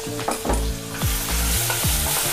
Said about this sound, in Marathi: मिरची चांगली भाजून घ्यायची